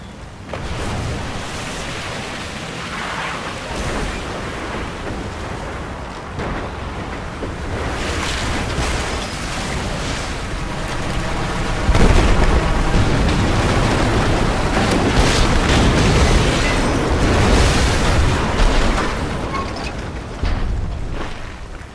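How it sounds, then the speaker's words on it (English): A giant water tank on a hilltop bursts in Battlefield 4 on the Dragon's Teeth map, unleashing a massive landslide: a sustained roaring, rushing wash of water and debris that swells and stays loud throughout, with no talking. "the giant water tank on the hill destroys itself, causing a massive landslide that deforms the map"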